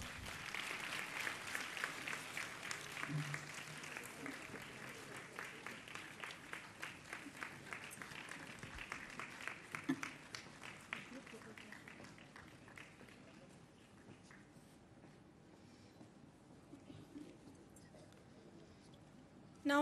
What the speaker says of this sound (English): The clapping should not stop.